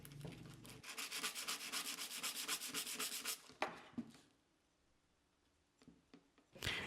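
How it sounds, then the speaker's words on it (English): A steel chisel is turned backwards and its burr rubbed off on an abrasive, a fast rhythmic scraping for about three seconds, then a few scattered scuffs and a brief rasp at the end. "Finally, I turn the chisel backwards and remove the burr."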